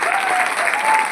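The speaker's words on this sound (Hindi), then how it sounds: "तो इनके लिए जोरदार तालियां।" A brief burst of crowd applause from an audience at a stage event, dense clapping lasting only about a second.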